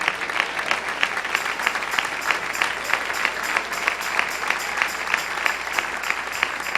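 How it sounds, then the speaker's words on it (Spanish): Church congregation applauding during a sermon, steady dense clapping with a regular rhythmic pulse throughout, fairly loud and close, with no speech over it. "Dale ese aplauso al Rey."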